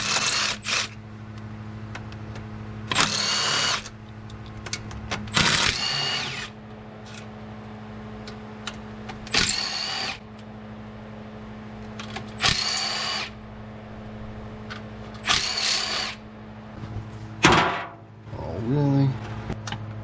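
A power tool zips out the transmission pan bolts on a Porsche in short bursts, about six separate runs spaced a few seconds apart, each close and loud over a steady background hum.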